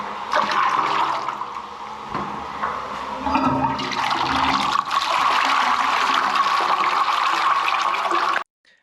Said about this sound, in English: the flush water flushes straight through